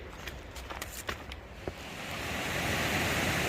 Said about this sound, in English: We have this huge waterfall cascade thing going on.